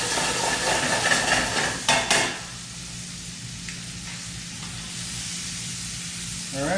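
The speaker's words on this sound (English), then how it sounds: "looks like our tomatoes are starting to kind of blister a little bit here, and our pan is doing real nice with the browning there" Tomatoes sizzling and blistering in a frying pan for a carbonara, a loud hiss at first with a couple of stirring clatters, then settling into a steady, quieter sizzle that swells again at the end.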